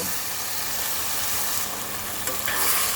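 A steady, close sizzle of vegetables frying in a pan with a little water and spices, hissing continuously with a brief stirring scrape near the end.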